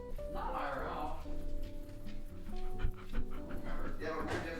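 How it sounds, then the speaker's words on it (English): A dog pants quickly and rhythmically at close range, with a faint whimper, under people talking and a low background hum. "Can y'all hear her just panting?"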